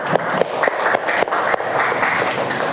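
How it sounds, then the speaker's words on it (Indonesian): Students in a mathematics classroom applaud, giving a steady patter of many hands clapping with a few sharper individual claps standing out, close and moderately loud, without speech. "Tepuk tangan dulu untuk Kayla."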